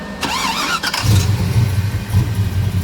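A car engine cranks and catches, then settles into a loud, rough, low idle that runs on close by for a couple of seconds.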